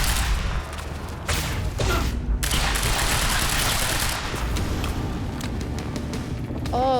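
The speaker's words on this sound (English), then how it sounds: "He's gonna start shooting." Enemy gunfire in the Quantum Break video game, a dense rapid volley of loud overlapping shots and booming impacts, nearly continuous with brief lulls, with a faint voice speaking underneath.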